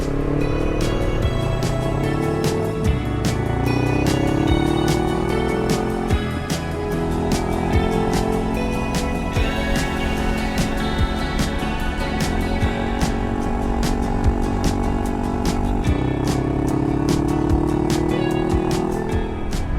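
A car cruises along a dead-straight, sun-baked desert highway toward Ely, the engine and road roar steady and loud throughout with no break.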